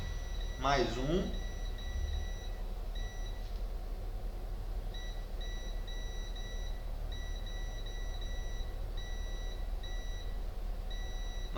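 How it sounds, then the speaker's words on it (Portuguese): A multimeter in continuity mode beeps while probing the coil of a Samsung On7 phone during repair: steady high-pitched electronic tones come in repeated bursts and pauses over a low hum, with a brief voice near the start. "Nós temos também a bobina bipando."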